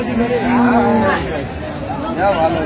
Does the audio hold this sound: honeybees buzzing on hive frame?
no